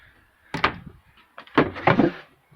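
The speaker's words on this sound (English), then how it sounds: "Got the drawer." Drawer in a storage unit of a Renault Master campervan conversion being pulled open, two close bursts of sliding wooden rumble and knocks with a quiet pause between.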